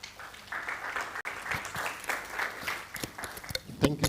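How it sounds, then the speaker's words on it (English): Light applause from a lecture audience at an optics and lasers summer school, faint and somewhat distant, with scattered individual claps standing out toward the end. "Let's give Malik another hand clap."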